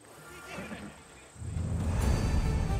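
A horse whinnies briefly amid Assassin's Creed game ambience in ancient Greece, followed by heavier rumbling movement and background noise.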